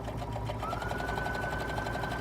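A sewing machine running a zigzag stitch along vinyl trim, a steady close mechanical whir with a fast regular stitching pulse and a faint higher whine.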